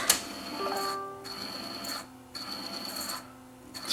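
Motor of a Sears Silvertone STR 1700 four-track reel-to-reel recorder under service, a faint steady whir with ticking and brief drops where it slows or stalls.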